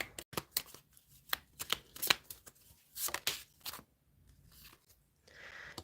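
Tarot cards are shuffled in quick, crisp bursts of riffling and slapping, close and fairly quiet, with short pauses between runs.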